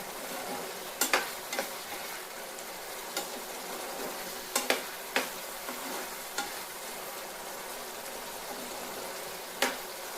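Masala frying in oil and being stirred in a pan, with a steady sizzle broken by sharp scraping clinks of the spoon at irregular intervals, close and alone.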